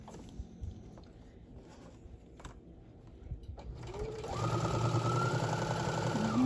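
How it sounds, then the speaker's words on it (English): A sewing machine stitches across the bottom seam of a small fabric tote bag, starting after a few seconds of quiet handling and then running steadily and fairly loud, close by, until the end. "Sewing across the bottom."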